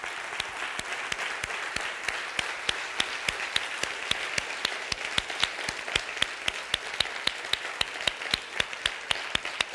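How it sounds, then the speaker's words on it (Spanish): A church congregation at a Sunday service gives a long round of applause. The clapping is fairly soft but steady, with sharp individual claps standing out in a near-regular rhythm for about ten seconds. "Le puede dar un fuerte aplauso al Señor esta mañana."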